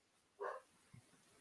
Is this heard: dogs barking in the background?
yes